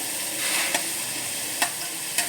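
Onions sauté in a pan with a dense sizzle, punctuated by three sharp clicks of a spatula stirring against the pan.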